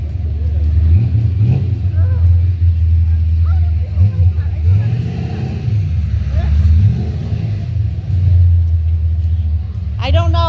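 A very loud car engine at a car show, a deep throaty rumble rising and falling as it revs, close by, with people talking and a crowd murmuring underneath throughout.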